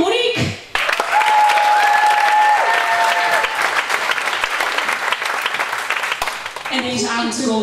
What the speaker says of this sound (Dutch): Groot applaus voor Monique, Wilma en Monique.